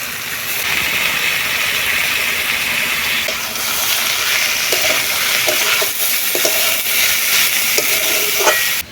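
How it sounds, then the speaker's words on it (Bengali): Red lentils (masoor dal) go into a hot pan, giving a steady loud sizzle and frying hiss throughout, with a few brief stirring clicks and scrapes toward the end. "এবারে দিয়ে দিচ্ছি মুসুর ডাল"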